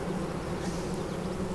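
Honeybees drone in a steady, dense buzz around an opened hive, with the hum fairly soft and continuous and no voices over it.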